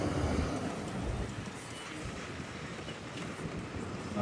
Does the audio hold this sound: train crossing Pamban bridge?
yes